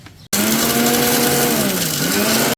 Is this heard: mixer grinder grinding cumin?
yes